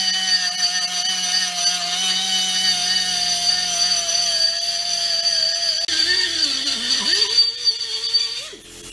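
An air-powered tool with a metal bit grinds the mushroomed head of a vintage splitting axe clamped in an old vise, a loud steady high whine that shifts pitch and roughens near the end.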